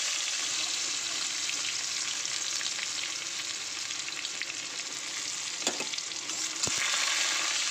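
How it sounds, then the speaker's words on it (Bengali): Black cumin, dried chilli and garlic tempering in hot oil, sizzling in a steady, loud, continuous crackle, with a couple of brief stirring clinks near the end. "আজকে তেলের মধ্যে ফোড়নও দেবো, দেখো কালো জিরে, শুকনো লঙ্কা ও রসুন, এইটা ফোড়নও দেবো।"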